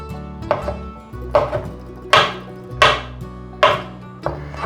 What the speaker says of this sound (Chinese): 把鲜香菇切片